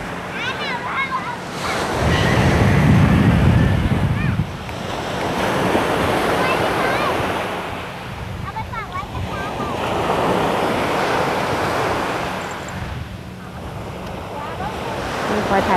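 Sea waves breaking on a beach in the evening, a steady roar of surf with wind noise and swells rising and falling, overlaid by distant chatter and occasional voices nearby.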